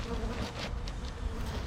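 Honeybees buzz densely around an open hive during a newspaper combine, a loud, continuous swarm drone close by with individual bees whizzing past.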